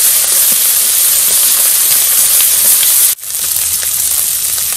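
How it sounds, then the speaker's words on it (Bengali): Ginger garlic paste fries in a pan with crab, making a loud, dense, constant hiss that cuts out for an instant and then resumes. "যেহেতু কাঁকড়া দিয়ে করছি এই জন্য আদা রসুন বাটা দিলাম"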